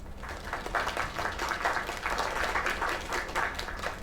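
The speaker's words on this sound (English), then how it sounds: "Another round of applause." A crowd applauding steadily, dense clapping that holds at an even level throughout, moderately loud and with no talk.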